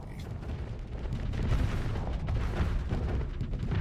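Thermal pulse cannons fire in Starsector space combat, a dense, continuous barrage of low rumbling booms that swells slightly and holds at a loud, steady level throughout.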